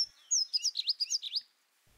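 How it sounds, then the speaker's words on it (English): Male Malachite Sunbird in a garden among flowering aloe plants, giving a short burst of rapid, high thin twittering chirps, close and clear, lasting about a second over near silence. "The Malachite Sunbird."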